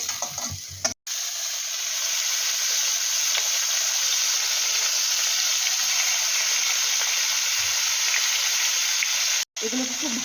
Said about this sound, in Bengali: ওই মাছের মাথাগুলো ওইগুলোও ভাজতে হবে ভালোভাবে ওইগুলো আগে ভেজে নিই